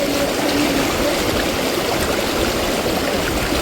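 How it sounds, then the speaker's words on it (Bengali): A hill waterfall stream in Meghalaya, feeding a tributary of the Umngot River, rushes steadily and close by, a dense unbroken wash of flowing water with no voices over it. "এই যে ঝর্ণাটা,"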